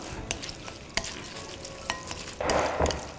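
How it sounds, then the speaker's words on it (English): Cooked japchae glass noodles are tossed with a prepared soy-based sauce, with scattered sticky clicks and soft taps followed by a louder, wetter squelching swirl, nearby and without voices. "We're going to season the noodles with 3 tablespoons of the prepared sauce. And then just mix it all up."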